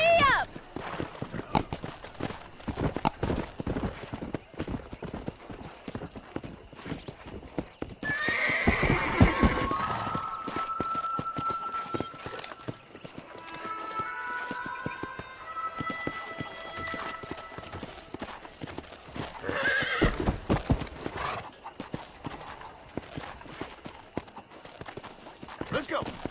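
A horse in Red Dead Redemption gallops and whinnies, its rhythmic hoofbeats running throughout with two neighs, mixed with in-game speech.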